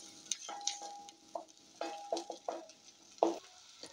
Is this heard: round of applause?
no